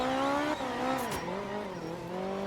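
Rally car in the game art of rally sliding through a handbrake turn, engine tone dipping and recovering with a brief tire skid, moderately loud and close.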